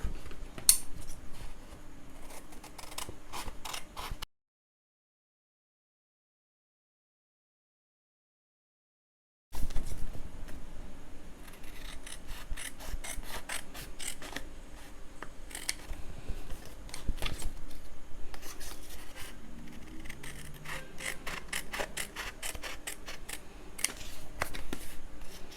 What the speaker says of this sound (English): So now I'm just going to cut this middle part off. Cut here off, cut the middle part off and get the frame.